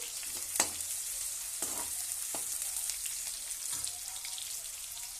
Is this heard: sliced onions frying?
yes